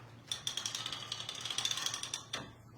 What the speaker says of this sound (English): I'm gonna go ahead and advance my quilt.